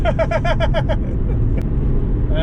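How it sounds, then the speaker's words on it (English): A 2011 Toyota RAV4 Sport V6 cruising on a highway: a steady, loud low road-and-engine drone fills the cabin, with a quick run of bright electronic chime beeps in the first second. "On the highway, the V6 is amazing. It's powerful."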